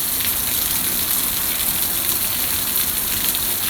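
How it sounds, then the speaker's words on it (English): Heavy rain pours steadily onto a backyard swimming pool in Brunswick, Ohio, a dense, constant hiss and patter with no letup and no voices. "how terribly bad it's raining here in Brunswick, Ohio"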